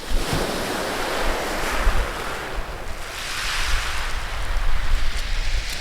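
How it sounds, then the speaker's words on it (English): Loud, continuous wind buffeting a microphone, a broad roaring rumble that swells and gusts throughout, growing rougher toward the end; no voices. "You hear the wind actually rattling in the headphones there at the end"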